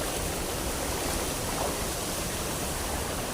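A branching creek flows steadily in a broad, even rush of water. The wash is moderately faint and continuous, with no voices over it.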